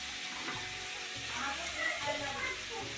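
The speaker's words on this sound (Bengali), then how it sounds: "আমার বউ তো এখন দেখো রান্না করছে রাত্রে খাওয়ার জন্য" Food for dinner fries steadily in a home kitchen, a continuous soft sizzle with faint clatter and low-pitched hum underneath.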